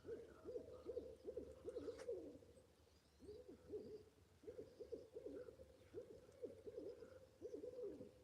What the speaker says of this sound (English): We got the owls out here hooting away.